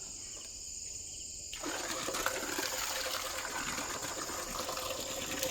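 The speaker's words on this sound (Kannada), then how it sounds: "ಹಾಗೆ ಇಲ್ಲಿ ನೀರು ಆನ್ ಮಾಡಬೇಕು." A water tap in a farm cattle shed is switched on: after a quiet start, a loud, steady gush of running water bursts in and keeps flowing close by, with no talking.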